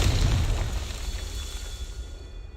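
A Confringo blasting spell in Hogwarts Legacy bursts with a close, booming explosion right at the start, its rumble trailing off and fading over the next two seconds.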